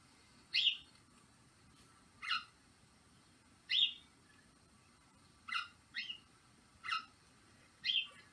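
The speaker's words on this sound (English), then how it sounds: "Are those house sparrows?" Sharp chirps, like house sparrows at a bird feeder, come in separate bursts, seven calls spaced irregularly against a faint quiet background.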